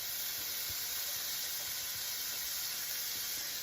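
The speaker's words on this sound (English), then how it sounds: "Okay, all melted up, and now in goes some onion." Chopped onion frying in melted butter in a pan, giving a steady, dense hiss with faint crackles throughout and no voices.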